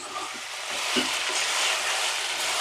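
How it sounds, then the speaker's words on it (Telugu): Chicken pieces fry in hot oil for a drumstick chicken curry, giving a constant close sizzle that holds steady with no voices. "చికెన్ చక్కగా ఫ్రై చేసుకోవాలి"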